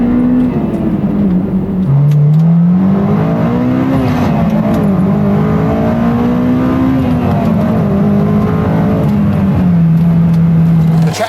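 A sports car engine revs hard and climbs through high RPM, pitch rising and falling with gear changes, loud and sustained without any talking.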